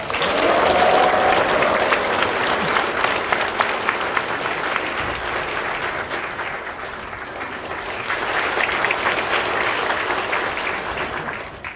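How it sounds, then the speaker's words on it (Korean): Church congregation at a dedication service applauding and cheering loudly as a member of the national assembly comes forward, sustained clapping and crowd noise for many seconds, swelling again near the end. "나오실 때는 박수를 치고 환호성을 질러야 돼요"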